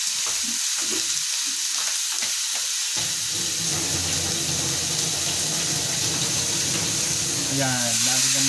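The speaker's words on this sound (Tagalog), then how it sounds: "Pero kami, lalagyan po namin ng tubig para may sabaw-sabaw ng konti." Water, about one and a half cups, poured into a pan of sautéing food, a bright hiss rising over the sizzle of frying, with a spoken voice over the cooking noise early on.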